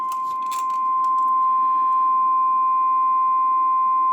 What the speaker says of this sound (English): Sorry for the beep.